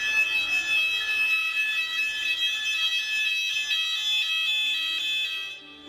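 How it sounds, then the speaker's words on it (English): A fire emergency alarm sounds as a steady, continuous high-pitched siren tone, loud and unbroken, cutting off abruptly near the end. "The fire emergency alarm is a steady and continuous siren sound."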